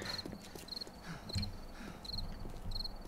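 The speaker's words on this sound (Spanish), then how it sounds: "No, tío, no empecéis con los grillos ahora, no me pongáis nervioso." Crickets chirping in the video game 7 Days to Die, short repeated high trills in a regular rhythm, about five bursts, over soft low clopping and ambient noise.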